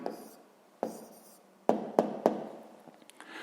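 Pen or pencil writing by hand on paper: a few quiet scratchy strokes with sharp taps and pauses between them, close up and fairly soft, with no talk.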